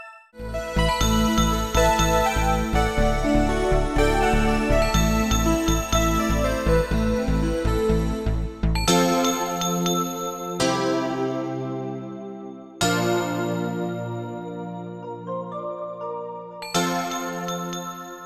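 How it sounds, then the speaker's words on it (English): Bright synthesized bell tones ring out over a rapid plucked pattern, then give way to sustained shimmering chime strikes that fade between hits. "This nice bell sound, wind chimes."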